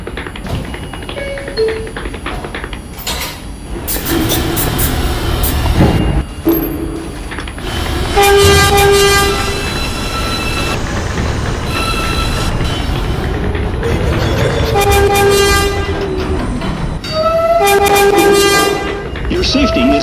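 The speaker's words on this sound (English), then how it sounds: "a Brooklyn-bound 4 express train" A Brooklyn-bound 4 express subway train enters a station, with loud rumbling, squealing wheels and mechanical clatter, while recorded station announcements play over the noise.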